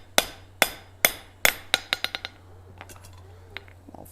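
A hammer strikes hot steel stock on an anvil, putting a bevel along its edge: several sharp ringing blows, widely spaced at first, then quickening into a rapid run before trailing off into lighter taps over a low hum.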